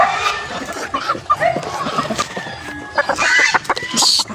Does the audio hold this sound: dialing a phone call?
no